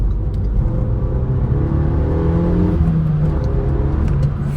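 A 2014 Renault Megane GT220 pulls hard in second gear, its engine note climbing steadily in a loud, close, continuous drone with road rumble underneath and no talk.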